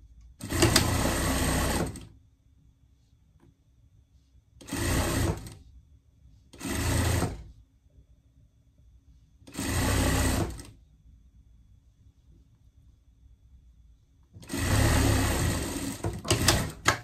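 A sewing machine stitches the lining of a hood on a bear-style pet pajama, running in five separate bursts of steady stitching, close and clear, with quiet pauses between runs.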